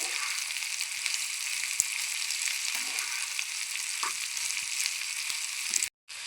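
Sliced ridge gourd tossed into a hot pan with garlic and asafoetida, producing a loud, continuous frying sizzle with occasional stirring scrapes and no talk.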